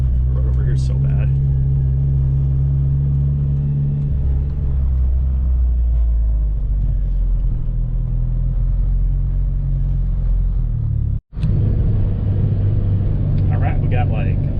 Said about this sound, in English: I've just been kind of driving around a little bit.